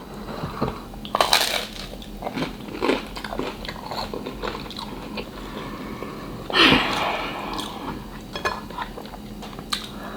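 Close crunchy bites and wet chewing of a seafood boil in mud sauce, eaten with bread, come in irregular bursts. One loud crunch stands out near the end, with light cutlery clinks and no talking.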